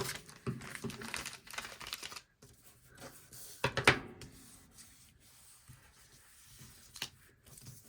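Steady crisp snipping and crunching of paper being cut with long scissors, with a few louder rasping strokes in the middle, close up and without talk.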